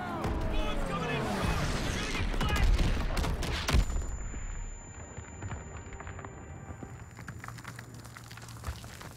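Dense, rapid gunfire from the World War II shooter game Call of Duty: WWII, with loud bursts and impacts that give way to a high ringing tone and scattered, quieter shots and debris.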